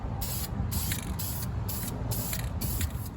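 Aerosol spray paint can hissing onto masked-off brake calipers in short repeated bursts, about five close, loud sprays with brief pauses between them and no talking.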